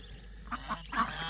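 About three short, soft peeps and quacks from two-week-old ducklings, close and quiet, spaced unevenly over a faint background.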